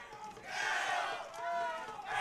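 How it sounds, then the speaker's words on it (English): Spectators at a girls' high school softball game, Elgin Lady Wildcats versus Pflugerville Connally, cheer and shout with a broad, rising roar from the stands. The crowd noise builds and swells, with a voice carrying over it. "Crowd is really getting hype behind me."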